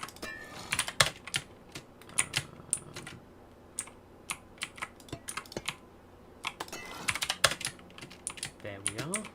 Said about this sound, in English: Oh, mechanical keyboard.